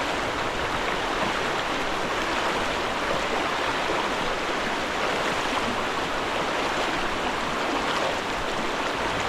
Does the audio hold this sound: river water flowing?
yes